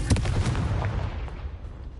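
A Confringo blasting spell goes off in Hogwarts Legacy, a heavy, close explosion with a sharp initial crack and thud that decays into a low, rumbling wash over two seconds.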